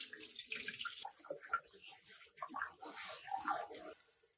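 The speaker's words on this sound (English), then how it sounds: "Then wash the rice. Rinse and drain it twice to roughly remove excess starch and debris." Thai jasmine rice being washed and rinsed in water, with faint running and splashing water from a sink, soft and close, continuing through the whole moment without any talk.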